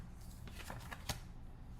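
Tarot cards are shuffled and drawn during an astrology reading, producing soft, quick riffling flutters and a brief sharper snap near the end, faint and close with no talk.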